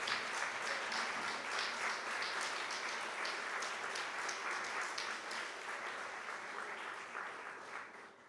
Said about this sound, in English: can we have the biggest round of applause for Minister Bartlett?